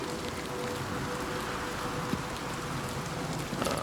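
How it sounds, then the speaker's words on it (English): Steady rain in The Elder Scrolls IV: Oblivion Remastered hisses across the whole clip, a dense even wash with faint drips and a brief patter near the end. "Oh man, it's raining."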